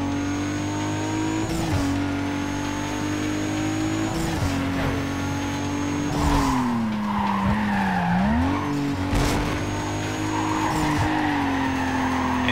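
A Nissan Skyline R32 races in Need for Speed Carbon, its engine droning loud and steady as the tires squeal through long skids, with the pitch dipping and rising as it shifts and slides.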